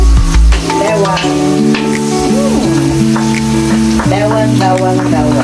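Garlic hitting hot oil in a pan, a loud close sizzle that flares at the start then settles into a steady crackling fry, with musical tones running underneath.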